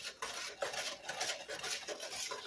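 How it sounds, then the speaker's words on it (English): A whisk beats ingredients together in a bowl, making soft rhythmic scraping and swishing strokes that repeat steadily for a couple of seconds, close and moderately quiet, with no voices. "Now we're going to whisk that in there"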